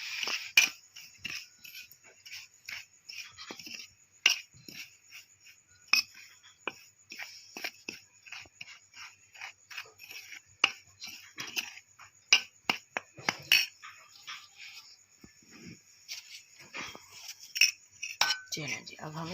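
A fish marinade of garam masala and lemon juice is stirred in a bowl, giving scattered light clinks and scrapes of a utensil against the dish, close and irregular with no voices.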